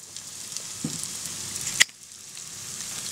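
Small bacon lardons frying with browned onions in a pan, giving a steady close sizzle throughout with one brief sharp clink partway through.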